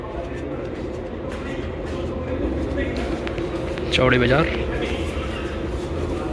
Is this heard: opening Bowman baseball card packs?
no